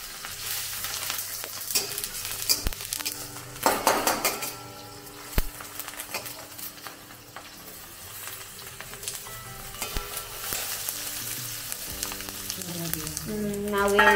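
Potatoes fry with sesame seeds in a hot pan in a home kitchen, giving a steady close sizzle with occasional clinks and stirring scrapes and a louder burst near the end.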